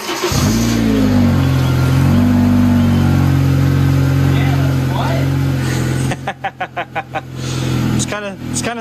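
A Honda Civic Type R engine cranks and catches, then settles into a steady, loud idle close by, followed by a few sharp throttle blips near the end.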